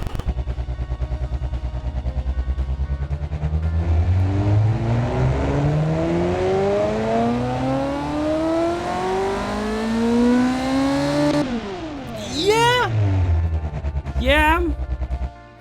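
A video-game V8 engine revs up through the gears, pitch climbing steadily, then backs off with crackling pops and sharp blips of the throttle, loud and close.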